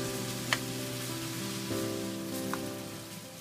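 Minced beef sizzles steadily in a wok for Thai pad ka-prao, a close, even hiss with a couple of faint utensil clicks.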